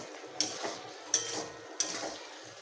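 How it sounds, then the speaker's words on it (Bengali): Soybean chunks and spices frying in a pan, three sharp utensil clicks against the pan spaced about a second apart over a soft sizzle, close and without speech. "এবার একটুখানি সয়াবিন দিয়ে মশলা দিয়ে ভালো করে একটু কষিয়ে নেবো"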